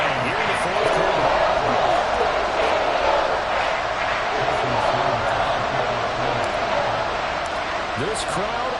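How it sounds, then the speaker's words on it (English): Stadium crowd roars and cheers in Madden 24 during a tied fourth-quarter NFL game after a comeback, a dense, steady wash of crowd noise filling the whole stretch without letup. "This crowd alive again"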